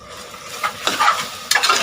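Ginger garlic paste being sauteed with tomatoes in a pan, a couple of brief stirring scrapes over a quiet sizzle.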